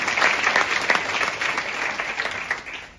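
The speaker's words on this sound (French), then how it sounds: "j'aimerais qu'on applaudisse" A room full of people at a talk on AI and diversity applauds, a dense burst of clapping that stays strong, then gradually tapers off.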